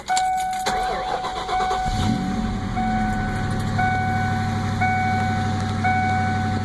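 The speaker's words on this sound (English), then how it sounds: "Alright, let's start the car." A Ford Mustang's engine cranks and catches, then settles into a steady idle, close and loud, while a repeating chime beeps over it, just after a radiator flush.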